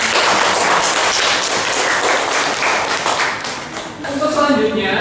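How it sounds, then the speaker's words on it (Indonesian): Students in a classroom applaud together, a loud, dense burst of clapping that holds steady, dips briefly, then swells again before voices begin talking near the end. "Mari kita beri aplaus untuk kita semua"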